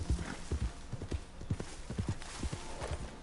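Horse hooves clip-clop steadily in a video game, a rhythmic run of soft distinct hoof steps at a walking pace, fairly quiet with no talk.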